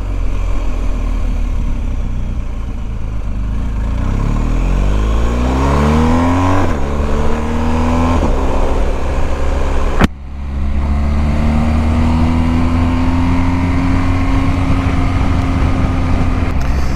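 A 2022 BMW R1250GS motorcycle accelerates hard, its engine note rising through the revs, dropping briefly at a gear change, then climbing again, loud and close throughout.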